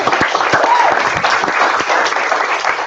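Lecture audience at a design show-and-tell series claps loudly, a dense patter of many hands with sharper individual claps standing out, continuing steadily with a faint voice underneath.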